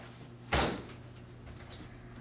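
A door that sits loosely in its frame gives one short, loud creaking scrape about half a second in, then fades into a quiet room with only a faint second rub later.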